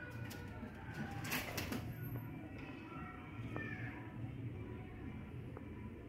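Racing pigeons cooing in a loft, with low soft coos repeating steadily over a constant background murmur and a brief flutter of higher sounds near the start.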